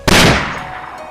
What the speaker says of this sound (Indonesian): muncul satu tembakan lagi dan tepat mengenai salah satu player